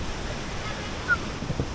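A waterfall on Camiguin Island, its water rushing in a continuous broadband wash, moderately near and steady, with no talking.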